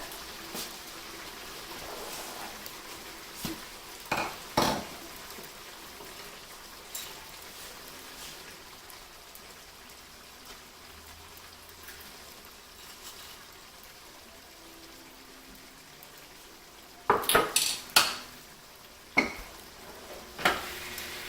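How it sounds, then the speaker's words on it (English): Parsi kheema being stirred in a pan: a faint, low sizzle runs underneath scattered scraping strokes, which bunch into a quick flurry of louder scrapes toward the end. "Give it a little good stir."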